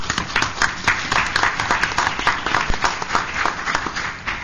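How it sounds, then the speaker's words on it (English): A round of applause rises from the audience at a community redevelopment agency board meeting: steady, moderately loud clapping from a small room of people, lasting several seconds. "I think they deserve a round of applause."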